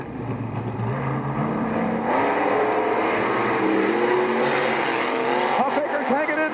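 Monster trucks Blacksmith and Gravedigger race in a Monster Jam World Finals quarterfinal, heard from on board as a loud, continuous engine roar with shifting revs and tire squeal. An announcer commentates over it.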